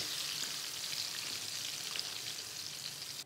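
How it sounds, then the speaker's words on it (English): Steady, crackling sizzle of battered pork deep-frying in hot oil, continuous and close with no talking. "when they're sizzling away, they all get that oil sort of heating up or sealing the meat and that batter immediately"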